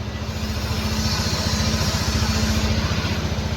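A TVS Ntorq 125 scooter engine, freshly rebuilt with a new cylinder block, idles close by with an even, rapid thrumming pulse and a steady low hum, running smoothly with no talking.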